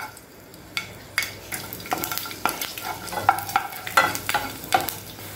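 Ten garlic cloves are tossed in a pan for onion kara chutney, giving a light sizzle with repeated scraping and clinking stirring strokes close up.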